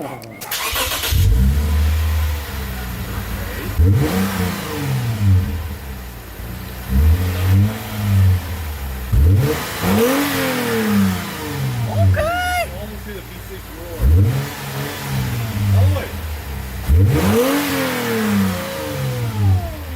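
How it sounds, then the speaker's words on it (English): Lexus IS250 V6 revving through an HKS Hi Power exhaust, a series of about six sharp rising throttle blips at steady intervals over idle, close and loud, with people talking in between. "I'm gonna hear the V6"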